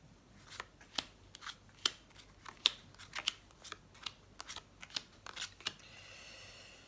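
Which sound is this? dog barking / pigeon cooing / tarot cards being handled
tarot cards being handled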